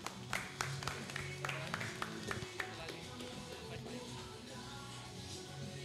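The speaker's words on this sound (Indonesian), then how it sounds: "Beri tepuk tangan untuk Felix." A stage audience greets Felix with a short burst of scattered hand claps, sharp and irregular at first, then thinning out into a murmuring room with a faint hum.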